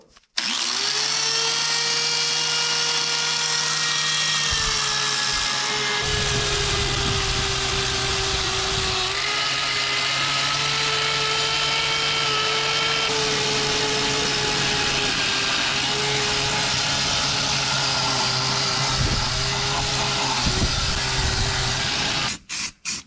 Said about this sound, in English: doing a little bit of wire wheeling, scrubbing with some wire brushes, parts cleaner, you name it